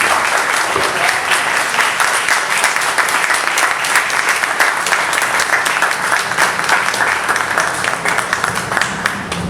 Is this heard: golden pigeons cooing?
no